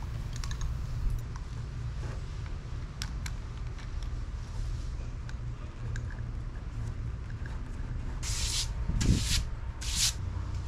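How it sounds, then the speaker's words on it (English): A utility knife scores Formica laminate with a low, steady scraping rub over a constant background hum, ending in a few sharper scratchy strokes near the close. "I'm leaning into the utility knife and moving my entire body."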